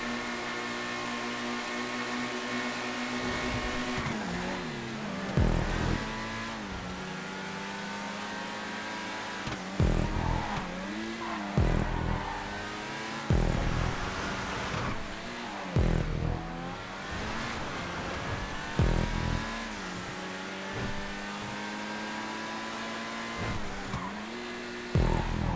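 HSW race car in GTA 5 roaring down a long back straight, a loud sustained engine note climbing through the revs with sharp breaks at each gear change, repeating several times, no talk.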